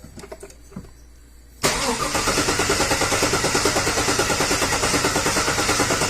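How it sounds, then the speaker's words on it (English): A 2014 Chevrolet Silverado with an intermittent no-crank fault being cranked in clear flood mode, quiet clicks and faint shuffling before the starter kicks in loudly, then a steady rhythmic cranking pulse that continues to the end. "I've got an assistant inside who's going to put it in clear flood mode and crank it over"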